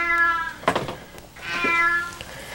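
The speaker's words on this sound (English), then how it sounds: "the cat was no longer just meowing, it was yowling" A cat trapped inside a vent gives two drawn-out, plaintive meows, one after the other, close and clear against a quiet background.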